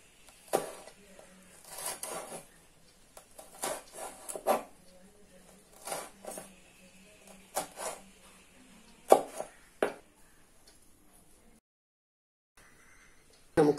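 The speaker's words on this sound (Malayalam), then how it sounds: "ഇനി നമുക്കൊരു പച്ചമുളക് അരിയാം." Green chili cut with a knife for an Indian vegetable salad: irregular close taps and knocks of the blade on a board, with short pauses and a brief silent gap near the end.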